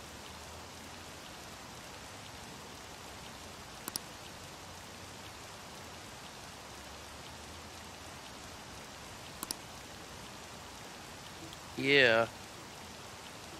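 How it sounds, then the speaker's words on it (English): Steady rain falls throughout a scene in the video game Persona 5, a soft continuous hiss at moderate level, with a couple of brief clicks and a short voiced word near the end. "Oh, it's raining too."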